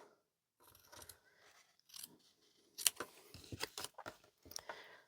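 A sharp pair of scissors cuts strips, probably paper or card, heard up close and quietly as a series of crisp snips and slicing rasps with short pauses in between and no voice.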